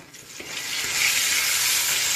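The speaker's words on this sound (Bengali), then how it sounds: "আর এদিকে আমি তেল দিয়েছি, তেলটা গরমও করছি" Oil heating in a pan for cooking onions rises into a steady bright sizzle that swells and holds, with a few faint clicks at the start and no voices.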